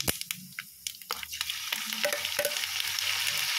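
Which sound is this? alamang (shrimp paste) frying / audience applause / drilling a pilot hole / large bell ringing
alamang (shrimp paste) frying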